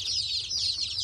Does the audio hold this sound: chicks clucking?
yes